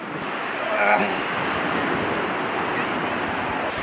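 Sea waves wash onto a beach as a loud, continuous rushing roar with rough wind noise on the microphone, without a clear break in the surf.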